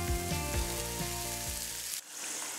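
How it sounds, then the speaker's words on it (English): Tortillas warming in a hot frying pan give a steady dense sizzle, close and loud throughout, with a brief dip near the end before the hiss resumes. "We got this pan here heating up, and we're just really warming those tortillas."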